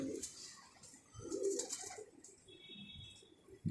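Pigeons in a rooftop loft in Udhampur coo in soft, low, throaty bursts, one near the start and a fuller run in the middle, over a faint background of chirps and rustling.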